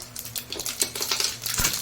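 Mustard seeds crackling in hot oil in a kadai, scattered sharp pops and spits over a soft hiss, close and moderately loud.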